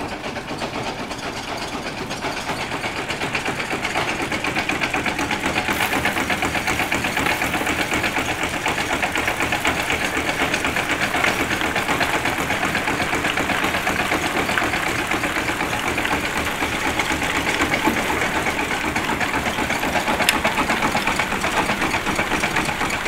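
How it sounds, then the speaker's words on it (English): A woodchip sorting machine screening chips for a gasifier runs continuously, a dense mechanical rattle and hum with a fast vibrating chatter that holds steady and fairly loud throughout, no voices. "this pile of chips is hopefully gone with this machine"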